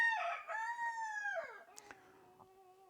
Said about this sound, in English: And there's the rooster again.